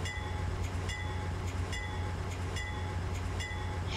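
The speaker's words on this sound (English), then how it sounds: "Loaded coal train" Loaded CSX coal train passing in a Roblox railcam video game, a steady rolling rumble with regular rhythmic clickety-clack beats from the cars, moderately loud, no talking.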